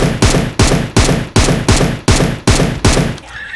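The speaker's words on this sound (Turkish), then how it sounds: "Uzaktan sıkanlar var." Loud, close gunfire in the mobile battle-royale game PUBG Mobile: about eight sharp shots in a steady, evenly spaced rhythm, each with a decaying tail, then a brief quiet end.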